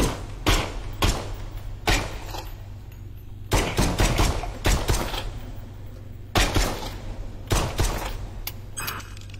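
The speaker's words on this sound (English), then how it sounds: "Use the trigger to shoot and destroy the targets." Gunshots from shooting targets in a virtual reality video game, loud sharp bangs fired in clustered bursts of two to four shots with short pauses between, close and dry against a low hum.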